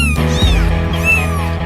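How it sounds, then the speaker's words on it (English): Kittens meow repeatedly in high, wavering cries, close and loud, several calls overlapping over a short stretch with no talking. "Now, some kittens."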